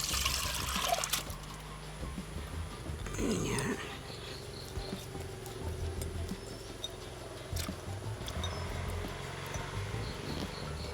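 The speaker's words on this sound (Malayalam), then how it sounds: "അപ്പോൾ നമുക്ക് ഈ വെള്ളത്തോടെ തന്നെ നമുക്ക് ഇതിലോട്ട് ഒഴിക്കാം." Soaked, washed lentils tipped with their soaking water into a cooking pot, a trickling pour and splashing early on, then a quieter ambient stretch with faint insect chirping in the background.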